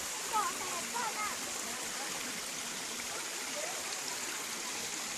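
Mae Kae waterfall in Ngao, Lampang, Thailand, gives a steady, faint wash of rushing water, with a few bird chirps and people murmuring softly in the background.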